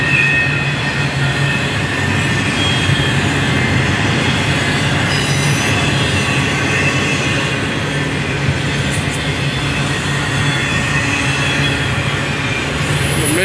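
A long double-stack container freight train rumbles steadily past close by, a continuous heavy roll of wheels on rails with occasional metallic squeals, no voices.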